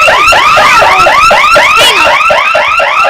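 A security alarm sounds loudly and continuously, a rapid repeating warble of rising electronic sweeps that fills the whole stretch, with a brief spoken remark barely showing beneath it.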